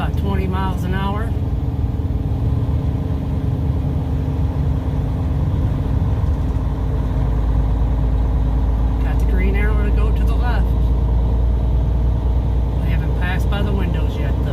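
A truck's engine and road noise run steadily and loudly through the whole stretch while it is driven slowly through an inspection zone. Faint voices or radio chatter come in briefly at a few points.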